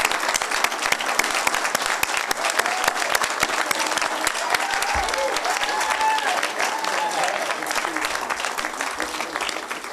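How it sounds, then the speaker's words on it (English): A large audience applauds at the dedication of the Monongalia County Justice Center in Morgantown, West Virginia, with dense, steady clapping filling the whole stretch at a loud, even level while a few voices sound faintly underneath. "Stand and let's give him applause."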